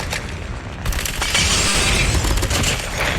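Smoke grenades and gunfire in a Call of Duty match make a dense stretch of booms, hissing bursts and scattered shots, loud and continuous with no talking.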